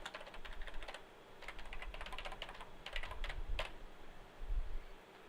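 Typing on a computer keyboard, a steady patter of close keystrokes with a few louder taps, moderately quiet and without any voice over it.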